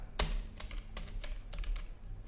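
Fingers type on a computer keyboard to enter an MS-DOS command, with about eight distinct close key clicks falling in a quick, uneven rhythm and one louder opening tap.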